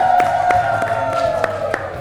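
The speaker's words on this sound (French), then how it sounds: "On applaudit pour Jessica." An audience of schoolchildren on a television show claps for a girl named Jessica, with a steady rhythm of sharp, even claps and faint cheering over a sustained musical tone.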